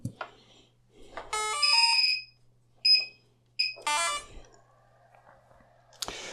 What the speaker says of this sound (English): you will also be hearing lots of extra beeps.